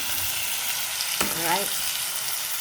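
Chicken browns in a frying pan for a chicken curry, giving a steady, close sizzle with a brief stirring scrape. A single short spoken word sounds over the frying.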